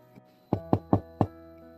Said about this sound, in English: She asked, knocking the door to his office.